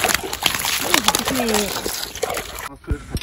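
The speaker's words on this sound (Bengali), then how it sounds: "এখন জল দিয়ে সব ধুয়ে দিয়ে যাচ্ছে কাদা মাদাগুলো সব।" Freshly caught snakehead fish get rinsed of mud with splashing, sloshing water in a village setting, steady wet spatter throughout with birds faintly audible and a few heavier splashes near the end.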